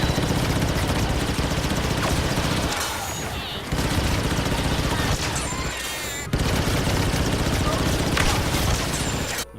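Assault class blaster in Star Wars Battlefront 2 fires in rapid, dense bursts, a loud continuous barrage of shots with a couple of short pauses between volleys.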